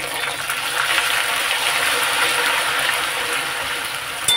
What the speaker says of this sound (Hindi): और साथ ही में थोड़ा सा इसमें डाल देते हैं हम पानी।